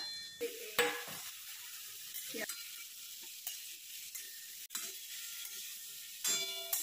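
Spiced potatoes being stirred in a hot pan with asafoetida, chili powder, coriander powder and turmeric, giving soft scraping strokes and light clinks of the utensil against the pan over a low sizzle, close and fairly quiet.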